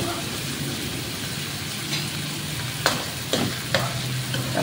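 Corned chicken and sotanghon noodles stirred in a hot pan, a steady sizzle of frying with a few sharp scraping clacks of the utensil near the end.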